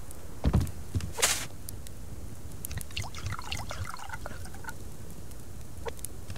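Boiled water poured onto plants in the survival game Subsistence, a short trickle and splash followed by soft scattered drips and light footsteps, fairly quiet throughout.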